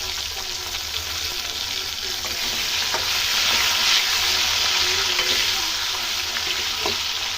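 Chopped tomato goes into a pan of cabbage frying for a vegetarian Bengali dish, giving a loud, steady sizzle with faint scraping stir sounds throughout and no talking.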